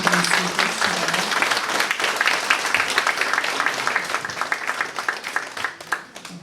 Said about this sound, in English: Please give a round of applause for our wonderful guest speakers today.